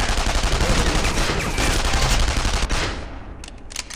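Rapid gunfire in the video game Counter Spy, a dense burst of repeated shots lasting nearly three seconds, loud and close, then cutting off into a few sparse trailing pops.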